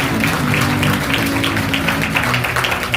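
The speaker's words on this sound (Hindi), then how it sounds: "अगर ठीक है तो ताली बजाइए अपने लिए।" A church congregation at a Sunday meeting applauds, dense steady clapping from many hands filling the whole stretch, with a faint voice underneath.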